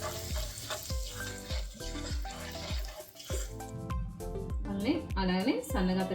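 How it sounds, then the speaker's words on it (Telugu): Cumin seeds frying in oil for restaurant-style palak paneer, an uneven crackle and sizzle running under background music with a rhythmic beat. "ఒక స్పూన్ జీలకర్ర వేసుకుందాం. వేసుకుని ఫ్రై చేసుకుందాం."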